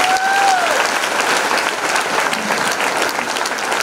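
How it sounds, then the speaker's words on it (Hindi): Dense, loud applause from an audience at a motivational training session, steady crowd clapping throughout with no talking over it. "ताली होनी चाहिए।"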